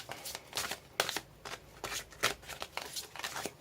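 Oracle cards are shuffled by hand in quick, riffling bursts of papery flutter, repeated about a dozen times in an uneven rhythm, close and fairly soft.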